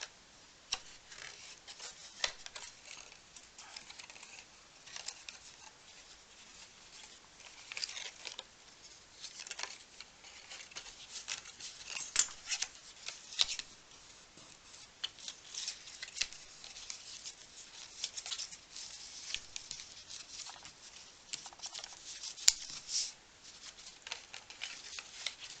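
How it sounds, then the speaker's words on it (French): Folds and small flap creases being pressed into 160 gram paper: soft scattered ticks, rubs and pattering taps, faint and close, spread irregularly throughout with no speech. "donc on marque tous les plis, les petits plis"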